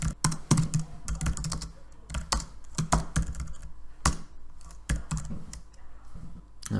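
Fingers type steadily on a computer keyboard, a close, dense run of crisp key clicks and taps with uneven rhythm and occasional louder strokes.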